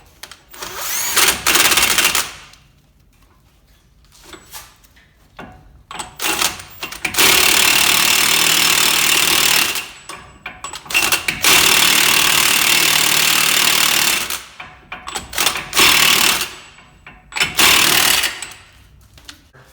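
Power tool spinning a 36mm axle nut onto a car hub, loud close bursts of whirring and rattling that start and stop several times between quiet gaps.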